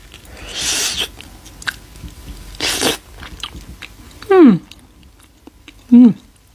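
Roasted silkworms are chewed up close with crunchy bursts, punctuated by two short, murmured vocal sounds of reaction.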